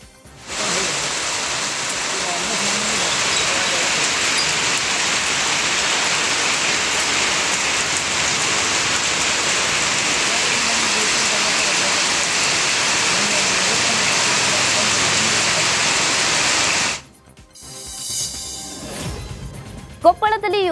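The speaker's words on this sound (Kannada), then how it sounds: "ಬಾಂಬೆ ಕಾಲೋನಿಯ ಹಲವೆಡೆ ತುಂತುರು ಮಳೆಯಾಗಿದೆ." Light drizzle falls in a residential colony in Karnataka, a steady close hiss of raindrops on surfaces for most of the stretch before it cuts off into brief mixed noise.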